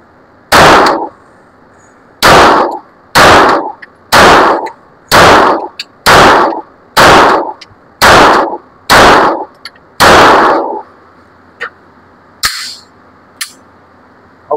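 Armscor STK100 pistol firing reloaded ammunition, eleven loud, close shots in a fairly even cadence about every 0.8 seconds, followed by a few fainter clicks and clatters of handling.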